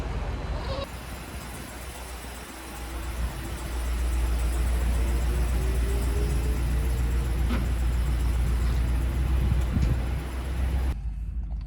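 A truck carrying a Cirrus 820 camper engine-rumbles steadily while backing in, a low continuous drone that swells after a few seconds, with a faint honk-like tone and background noise.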